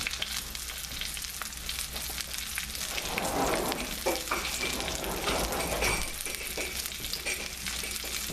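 Chicken frying in a pan over a lowered flame gives a continuous soft sizzle with faint stirring scrapes near the middle, steady and fairly quiet, with no talk.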